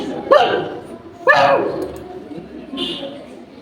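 A voice imitates a dog barking, giving two sharp woofs and a softer third, each separated by a short pause.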